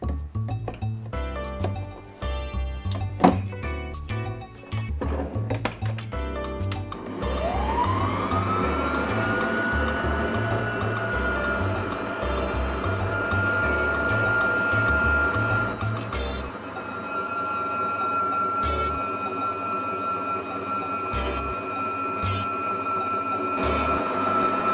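An electric mixer whirs through chocolate cake batter, a steady loud motor whine after some rattling and thumping start-up sounds, running on alone for a long stretch.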